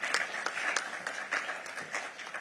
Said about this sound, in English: Let's applaud him as he comes to the podium.